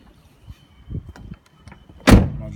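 The side door of a VW Transporter T6 van swings open on a faulty hinge that catches the near-side wing, heard as faint rustling followed by a single sharp, loud metallic clunk.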